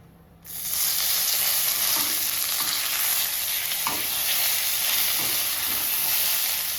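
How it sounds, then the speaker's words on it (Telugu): Curry leaves drop into hot tempering oil: a sudden loud sizzle erupts and holds steady, oil spitting and crackling with small pops throughout, close by. "ఇప్పుడు పోపు చిటపటలాడుతుంది కదా, అప్పుడు కొంచెం కరివేపాకు వేస్తున్నాను."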